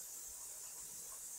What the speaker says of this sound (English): It is really steaming now.